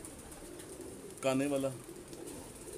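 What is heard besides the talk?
pigeons cooing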